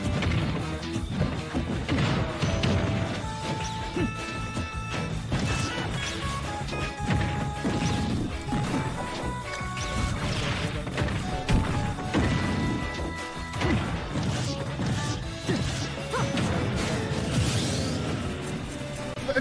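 A forward smash attack lands in Super Smash Bros. Ultimate during a competitive match, a sharp crashing hit buried in a dense, continuous wash of game music and effects, with no voices.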